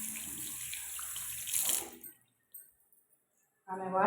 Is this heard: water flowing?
yes